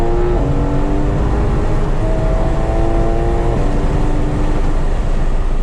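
A Porsche GT3 RS engine accelerates hard on the Thunder Hill race track, a loud continuous roar climbing in pitch through several upshifts under heavy wind and road noise from inside the car.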